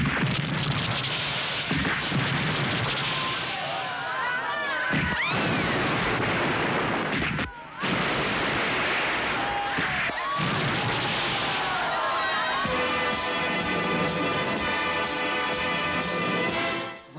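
Loud movie action sequence from a Hindi romantic film with heavy blasts, crashes and dense rumbling fire, broken by brief silent gaps, with a musical score rising toward the end.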